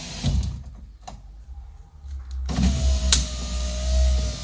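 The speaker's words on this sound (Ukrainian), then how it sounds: "Зараз спробуємо адаптувати вікно." A car's electric power window motor whirs as the glass travels up and down during window adaptation, with clicks and a switch clunk, then a sustained close motor drone.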